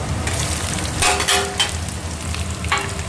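Chopped onions sizzling and frying in hot oil in a pan during home cooking with cumin, a steady loud crackle with bursts of stirring, close up and without voices.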